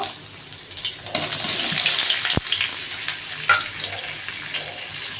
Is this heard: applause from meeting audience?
no